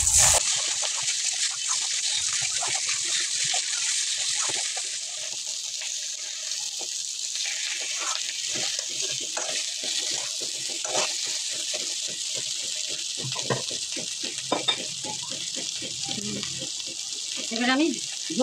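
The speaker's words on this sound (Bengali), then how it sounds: "এবারে আমি আলুগুলো দিয়ে দেব। একটু আবার কষিয়ে নেব।" Potatoes fry in a pan for a bori, potato and eggplant curry, a close, dense sizzle with scattered stirring scrapes and clicks throughout.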